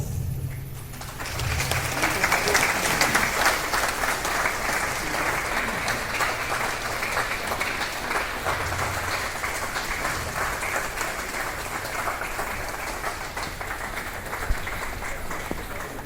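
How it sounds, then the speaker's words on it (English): A hall audience gives a big round of applause to welcome the chief guest and guests of honor at a Christian community achievers' event in Gandhinagar, Gujarat. Sustained, even clapping fills the whole stretch, with a few faint bird chirps behind it. "Let's welcome them with a big round of applause."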